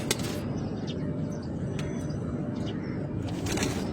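Pigeons of several bloodlines kept in a loft, low cooing under a constant dense rumble of background noise, with faint flutters and a few sharp clicks.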